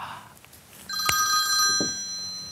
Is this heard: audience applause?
no